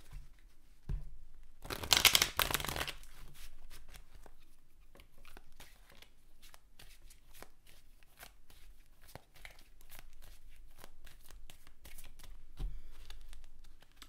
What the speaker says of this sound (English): it just feels good to give them a good shuffle